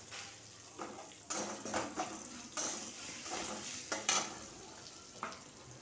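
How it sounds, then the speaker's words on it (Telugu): Coriander seeds frying in a pan with curry leaves, a soft steady sizzle broken by repeated scraping and stirring strokes of a spoon against the pan, close and fairly quiet, with no talking. "ధనియాలు అవి కొంచెం ఎర్రగా వేగాలి"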